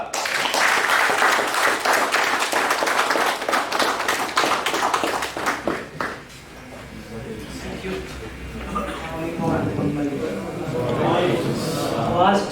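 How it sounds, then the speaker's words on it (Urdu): Audience applause welcomes Malik Naseer Haider to the stage at a HOPESTAKE briefing in Attock. Clapping is loud for the first six seconds, then fades into room murmur and a voice testing the microphone. "آپ کی بھرپور تالیوں میں"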